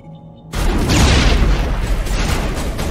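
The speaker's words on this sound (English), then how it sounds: "here I'm trying to use grenades again" A grenade in Mass Effect Legendary Edition, during the Eden Prime mission, detonates with a sudden loud boom after a quiet moment, then a dense, roaring blast rumble that holds and slowly fades.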